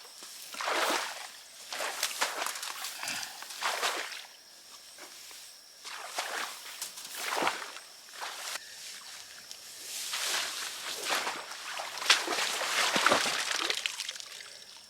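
Boots wade through knee-deep water on a family farm, slow sloshing steps with splashes and trickling, steady and fairly close, and no one speaks.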